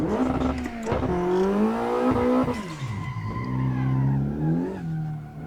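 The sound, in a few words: all-wheel drive Mitsubishi Lancer drifting, skidding in a video game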